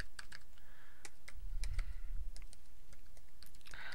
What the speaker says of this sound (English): we're going to type www.google.com